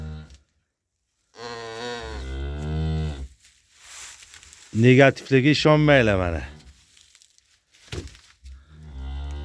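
A cow that has recently calved moos loudly and close by in long, drawn-out calls, with someone speaking between and after the calls.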